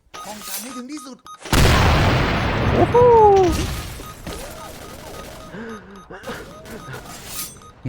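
Grenade and fire-bomb explosions in the online shooter XSHOT erupt as a loud, sudden blast followed by a crackling burst. A player talks over the game sounds throughout.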